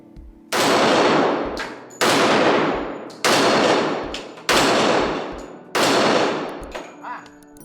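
Five loud gunshots from a Smith and Wesson SW1911 E Series pistol, spaced about a second or more apart, each a sharp crack with a long ringing decay on a range.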